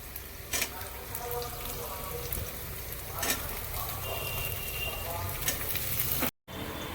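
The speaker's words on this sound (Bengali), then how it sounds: "তো এখানে দেখো পেঁয়াজ আর লঙ্কা আমি ভেজে নিচ্ছি" Onion, chili and potatoes frying in oil give a continuous crackling sizzle, with occasional clinks and stirring scrapes close by.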